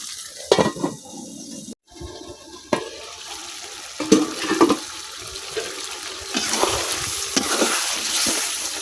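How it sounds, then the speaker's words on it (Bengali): Chicken meat being stirred and fried in a pan for a curry: sizzling frying runs throughout, broken by repeated scraping stirs of a spoon against the pan, close and fairly loud, with no talking. "এখন মাংসটা ডাইকে কিছুক্ষণ কষাই দিলাম"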